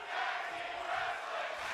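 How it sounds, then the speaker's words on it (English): Tag team wrestling crowd roaring and screaming in a sustained, dense wash of cheering that stays loud and steady throughout, with no clear individual voices standing out. "the crowd is loving this screaming tag team wrestling"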